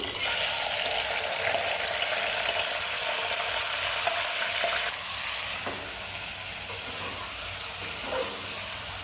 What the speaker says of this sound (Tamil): இதில் நம்ம மேரினேட் பண்ணி வச்ச மட்டன் சேர்த்துடலாம்